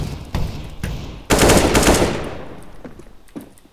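Rapid automatic gunfire from a video game, with several bursts followed by one long sustained loud volley that fades into scattered distant shots.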